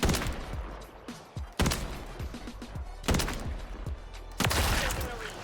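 Rapid bursts of automatic gunfire from a weapon in the video game MW3 Warzone, loud and continuous with three heavy restarts of the barrage, each volley rattling densely with no talking over it.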